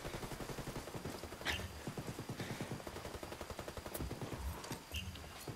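Sustained automatic gunfire from a video game firefight, dense rapid bursts with a few louder single shots and small explosions, continuous and close, with brief voices barely present.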